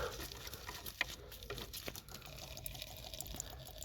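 Fluid from a diesel engine trickles and drips into a collecting container, a faint, uneven patter with occasional sharper drops, heard alone without talk.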